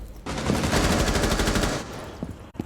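Sustained automatic gunfire in the tactical shooter Rainbow Six Siege, a loud rapid burst of shots lasting under two seconds, followed by a few faint clicks and thuds.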